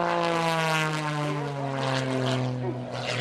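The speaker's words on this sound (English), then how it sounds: "Laying it on the side of the fuselage in knife edge flight." An MX2 aerobatic propeller plane at the Florida International Airshow roars loudly in knife-edge flight, its engine a steady droning tone that bends slightly in pitch as it passes, with a voice talking over it.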